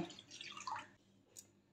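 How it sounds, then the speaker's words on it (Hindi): A cup of water is poured into a hot cooking pan on a gas stove, giving a short, close splashing gush that quickly fades into quiet drips. "एबे कड़े रे दे दबा 1 कप पानी"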